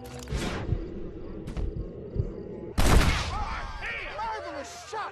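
Gunfire from a Western video game, Red Dead Redemption: a few sharp shots ring out amid game sounds and voices, with a louder burst near the middle followed by chirpy bird-like tones.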